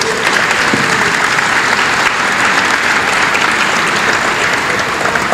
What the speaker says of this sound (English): So a big round of applause for all the nominees tonight